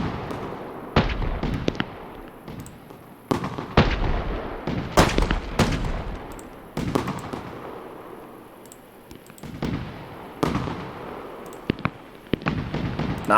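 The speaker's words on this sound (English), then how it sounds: "This is literally a game where you just light fireworks." Fireworks burst in the video game Firework Mania, a rapid string of sharp cracks and booming blasts at irregular intervals, some loud and close, others lighter and crackling, with no talking.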